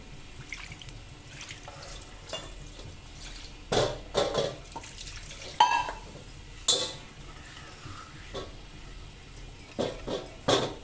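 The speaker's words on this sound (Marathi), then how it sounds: "तर आता स्वच्छ पाण्याने एकदा धुवून घ्यायचे" A wooden household item is rinsed with clean water at a sink, giving quiet, intermittent splashes and drips with a few sharper knocks in between.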